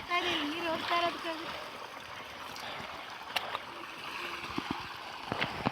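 Water flowing and trickling outdoors on a sunny day, a soft steady gurgle running beneath people talking, with a few brief knocks and taps.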